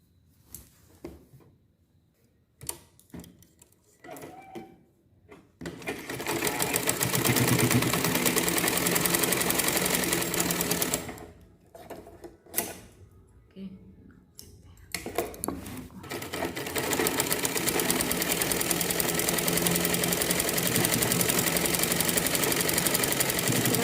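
A sewing machine runs in long continuous bursts while stitching the fitted fold of a blouse collar, with brief pauses and clicks between runs; no one speaks.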